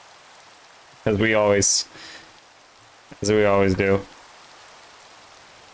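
Rain falls steadily in Minecraft as a soft, constant hiss in the background, partly covered by two short bursts of someone talking.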